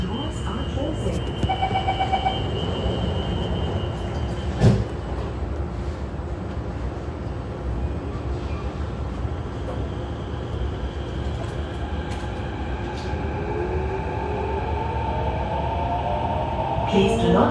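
A Singapore metro train rumbles steadily along the track, with a constant low roar and a brief chime near the start; a voice speaks faintly over it.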